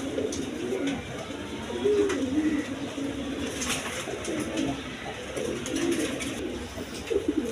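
Pair of big White Beauty pigeons cooing, low rolling coos repeating steadily at close range against busy background noise from a loft or market.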